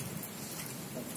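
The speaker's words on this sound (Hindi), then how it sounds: "बारिश की आवाजें भी आपको सुनती रही होगी" Heavy rain pours steadily during Cyclone Tauktae in Haryana, India, a dense, constant hiss of drops close by, with no voices.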